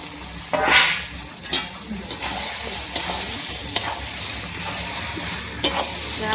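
Fried potatoes stirred into chicken curry cooking in a pan, steady sizzling with the scrape and knock of a spoon against the pan at irregular intervals, close and fairly loud.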